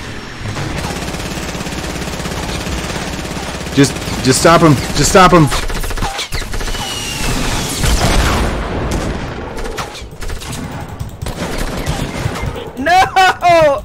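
Fortnite gunfight with repeated bursts of weapon fire and impact booms around the player, dense and loud, mixed with game music and effects while a voice talks excitedly over it.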